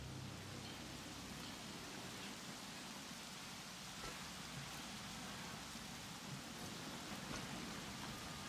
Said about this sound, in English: Storm inbound.